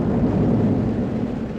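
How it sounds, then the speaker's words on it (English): Storm thunder in a radio drama sound effect: a deep, loud, continuous rumble that rolls on steadily without a break. "The thunder of the storm ended the sermon."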